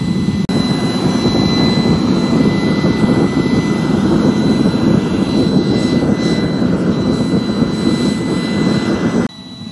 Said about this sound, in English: We now have ignition and it is roaring like a jet engine.